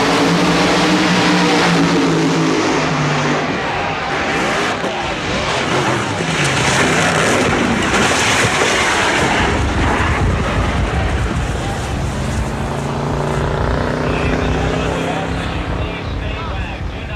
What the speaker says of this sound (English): You have just witnessed one of the most incredible crashes in the history of all motorsports.